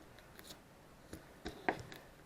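Scissors snip through a measuring strip at the one-third cup mark in a few quiet, close cuts, with soft rustling in between.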